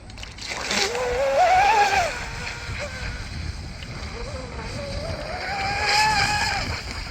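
A DIY RC F1 powerboat with a LiPo battery and a 43 1.6 golden prop runs on water, its motor whining and rising in pitch as it passes, with speech over it.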